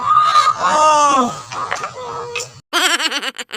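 A chicken lets out loud, close, harsh calls, a long honking squawk followed after a short gap by rapid, wavering clucks in quick succession.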